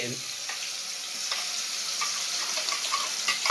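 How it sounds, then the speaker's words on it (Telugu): Onion paste frying in hot oil for a fish curry, giving a close, steady sizzle with faint stirring scrapes throughout and no voices. "అదే నూనెలో అయితే ఆనియన్ పేస్ట్ వేసినాం కదా"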